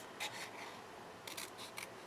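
Scissors cut paper in two short bursts of crisp snips, close and quiet, separated by a pause, with no talk.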